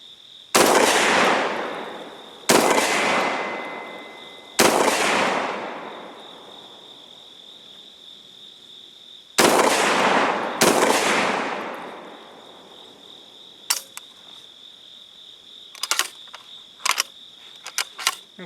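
A Gforce GF25 shotgun with a 20-round drum fires five loud, close blasts at irregular spacing, each ringing out. Lighter mechanical clicks and clacks follow near the end, over a steady faint high hum.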